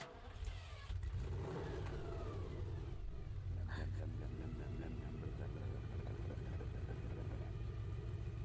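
A V8 engine idles with a low, steady burble, rumbling continuously at moderate volume with faint background noise.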